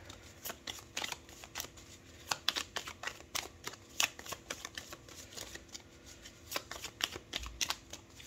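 Close, soft shuffling of tarot cards, a steady run of quick riffling flicks and papery slaps at low volume with no voices over it.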